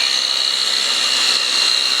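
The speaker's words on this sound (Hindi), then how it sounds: "वहाँ पे ग्राइंडर के साथ काम हो रहा है" An angle grinder cuts and grinds steel girders at a village house in Pakistan, giving a steady, loud, high whine that holds unbroken throughout with no talk.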